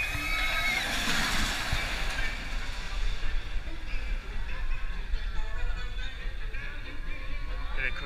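A water ride boat at Thorpe Park splashes through water, a loud broad rushing surge early on that settles into continuous churning and sloshing, heard from nearby.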